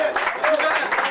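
Audience applause at a football club's partners' evening and N3 player presentation, a dense, steady wash of many hands clapping with a voice carrying over it.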